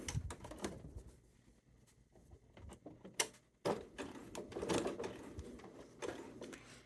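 A sewing machine stitches a seam on a Tula Pink Sunshine Daydream quilt, with quick mechanical bursts, brief pauses and a final stop, close and moderately loud with no talking.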